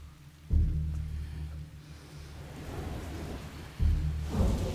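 Steady rain falls throughout, with two loud rumbles of thunder rolling in close by at separate moments, and no speech over the storm.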